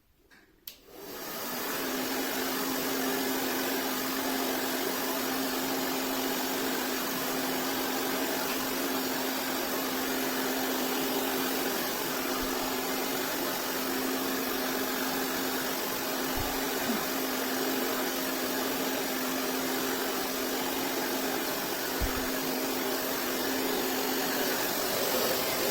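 A hair dryer without its nozzle attachment switches on and blows in a steady, loud, close rush of air during hair styling, holding constant with only faint clicks.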